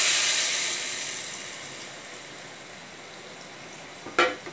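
Masala soaked in tamarind water poured into a pan of garlic gravy, a loud hiss that fades into a low steady simmer, then one short sharp clack near the end, with no one talking.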